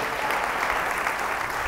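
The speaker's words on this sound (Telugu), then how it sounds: "దేవుని చప్పట్లు కొట్టండి." A church congregation applauds during a sermon: steady, dense clapping from many hands, fairly loud and continuous throughout.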